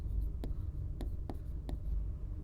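Writing on a board, a few sharp separate taps and strokes from close by over quiet room tone, with no talk.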